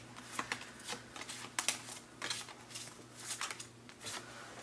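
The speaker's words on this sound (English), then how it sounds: "let me just pull one of these cards." Tarot cards shuffled and pulled from a small three-card spread, giving soft repeated papery riffles and flicks close up, fairly quiet, with no talking.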